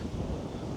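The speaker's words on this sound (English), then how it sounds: "It's getting very windy" Strong evening wind after a rainy day buffets the microphone outdoors, a low, continuous rumbling roar with no speech.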